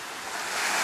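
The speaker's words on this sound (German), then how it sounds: "Baut sich nämlich immer wieder mal eine schöne Welle auf." Ocean waves breaking on the coast at Águilas, Spain, a broad wash of surf that swells louder toward the end, with wind noise on the microphone.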